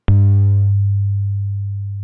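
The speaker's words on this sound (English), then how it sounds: "here I've got Mathematica playing a sinusoidal tone" A single low, pure 100 Hz sine tone starts abruptly and fades slowly over about a second, with a brief bright click at its onset, alone against silence.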